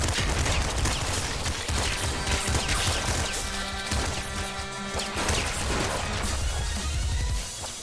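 Shotgun gunfire in a video game, a dense loud burst of blasts and crashes over continuous game noise, no talk.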